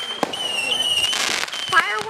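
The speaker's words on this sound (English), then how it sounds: "Fireworks on the 4th of July during a thunderstorm." Fireworks go off on the 4th of July during a stormy night, sharp bangs and crackles with whistling shells rising and falling, while people talk nearby.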